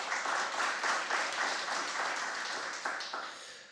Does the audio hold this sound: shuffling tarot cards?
no